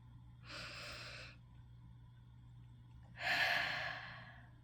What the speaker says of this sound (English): Let's take a deep breath together.